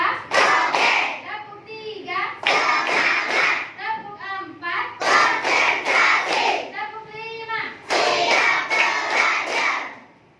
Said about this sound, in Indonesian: kita melakukan yel-yel tepuk semangat dulu